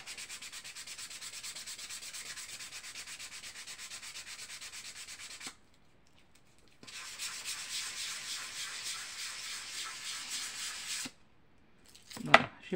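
Wood is hand sanded with sandpaper in a long, steady rasping stroke run, a pause, then more continuous scrubbing, ending with a couple of knocks and rustles close by.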